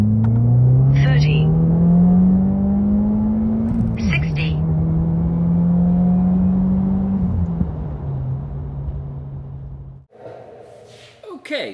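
Subaru WRX on a stock tune accelerating hard from 30 to 70 mph, a loud steady engine drone rising in pitch through gear changes, then dropping away as the run ends.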